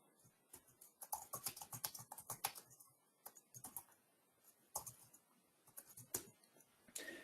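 Rapid bursts of keystrokes on a computer keyboard while JSX code is entered, irregular clusters of close clicks with brief pauses between runs, no talking.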